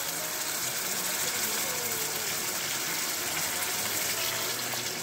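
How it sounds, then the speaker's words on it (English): Water gushes loudly and steadily into a pot of rice while cooking Ghanaian oil rice, a dense, continuous close pour with no pauses. "So now that our rice is in there, we try to add our water."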